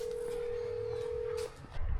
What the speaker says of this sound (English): Let's call him on the phone.